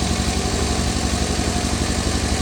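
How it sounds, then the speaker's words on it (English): A 1963 Volvo Amazon wagon engine idles fast and steady after a carburetor adjustment, a loud close continuous drone with an even rapid pulse throughout. "Man, idle's way high now."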